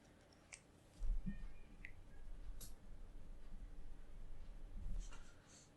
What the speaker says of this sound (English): My pencils are all very small, so it's not so easy to color with them.